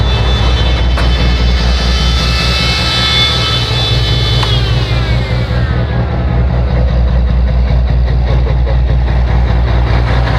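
A big-cam engine in a sand hog truck runs at high idle, a loud, steady rumbling drone with a whining tone that drops in pitch partway through as the revs fall, and no talking.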